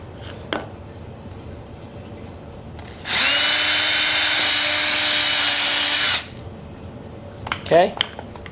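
A power drill bores a hole through a back top pannier mount in one loud, steady three-second run, with faint handling clatter before and after.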